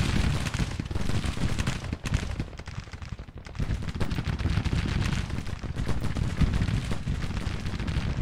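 Artillery battery firing in the Civil War strategy game Grand Tactician, a dense continuous rumble of overlapping cannon and musket fire heard from a distance, steady throughout.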